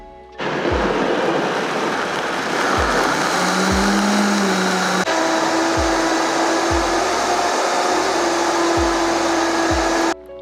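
A kitchen blender runs continuously, whirring loudly as it blends a green smoothie of pineapple and coconut, with a steady motor roar and repeated low thumps as the contents churn.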